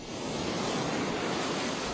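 Sea waves break in a steady broadband wash of surf, dense and continuous at moderate distance with no talking.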